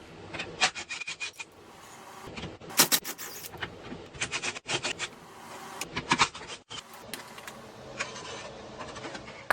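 Plastic fasteners being pried and pulled from a car's splash shield underneath the vehicle: repeated scraping, rubbing and clicking bursts in an irregular rhythm, close and fairly quiet, with no talking.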